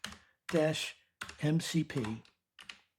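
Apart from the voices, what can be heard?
typing a package name on a computer keyboard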